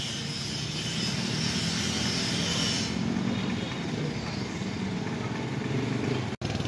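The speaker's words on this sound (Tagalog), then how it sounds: "Dito ako kay Borlonga, nagpapayos ng motor." A motorcycle engine runs steadily during repair work at a roadside shop, a continuous loud idling drone with a broad rumble that holds without pause.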